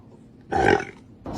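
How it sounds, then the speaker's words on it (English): A dog producing a short, gruff burp-like grunt on request, one loud close burst about a quarter second long followed by a second sound starting at the end. "Can you give me a burp?"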